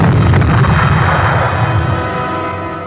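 Torpedo explosions hitting the target: a heavy, deep boom that rolls out and slowly decays into a long rumbling tail, loud and alone.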